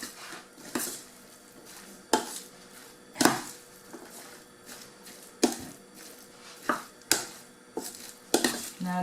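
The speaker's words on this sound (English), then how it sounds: "Keep mixing." Chopped vegetables such as cabbage and carrots being mixed in a bowl for spring roll filling, with irregular clinks and scrapes of a utensil against the dish, clear and close, with no talk.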